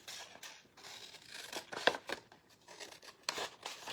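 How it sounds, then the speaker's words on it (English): Scissors snipping through card stock for a folded zinnia greeting card, a series of close, crisp cuts and rustles with a sharper snip near the middle, no talking. "I'm going to just cut these with my scissors this time"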